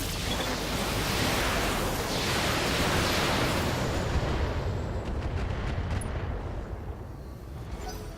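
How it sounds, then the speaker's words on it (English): Heavy weapons from BattleTech mechs fire a full volley at an enemy, a loud sustained roar of blasts and rumbling impacts that thins out toward the end. "Firing full complement on the enemy."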